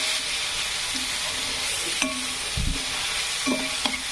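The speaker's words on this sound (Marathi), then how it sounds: "त्यासाठी कांदा आपण छानपैकी असा फ्राय करून घ्यायचा आहे" Onion frying in a pan, with a continuous close sizzle broken by several sharp stirring clacks and scrapes of a spatula against the pan, no voices.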